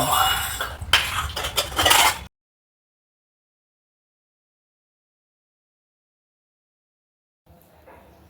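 Pots and pans clatter and clank briefly up close, a burst of metallic knocks lasting a couple of seconds before falling silent.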